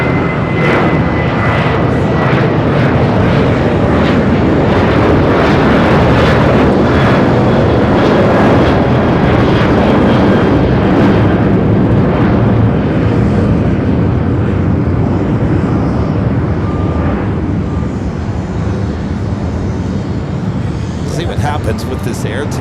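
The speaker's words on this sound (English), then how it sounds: "With this Air Tahiti Nui Dreamliner, that flight heading to Paris." Air Tahiti Nui Dreamliner jet on the move at Los Angeles airport, a loud sustained engine roar that swells and then slowly fades, with a voice talking over it.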